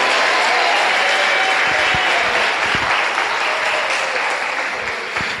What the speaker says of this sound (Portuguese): Aplauda Jesus de Nazaré.